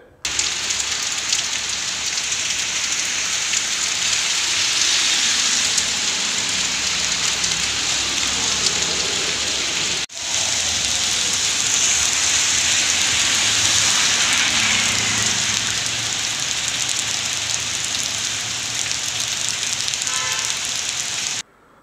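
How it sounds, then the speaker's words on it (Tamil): Heavy overnight rain pours down in Puducherry as a dense, continuous hiss of drops on surfaces, loud and steady for over twenty seconds with only a brief break near the middle. "இரவு முதலே கனமழை பெய்து வருகிறது"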